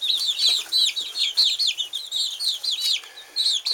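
Backyard chickens kept for fun and organic eggs, their soft clucks and short chirpy calls tumbling over one another in a quick, steady chatter, close and continuous with no talking.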